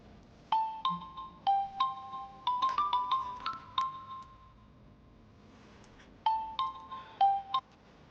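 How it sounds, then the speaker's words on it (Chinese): A mobile phone rings for an incoming call in a hospital drama, its bright electronic melody playing in short phrases, pausing, then repeating clearly with no other sound. "你怎么把电话打过来了？"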